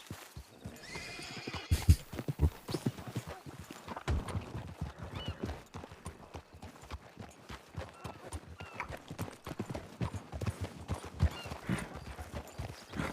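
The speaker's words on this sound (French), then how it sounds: "je prends mon cheval." A horse in a video game neighs near the start, then trots on with a fast, steady clip-clop of hooves that continues to the end at moderate loudness, with no talk.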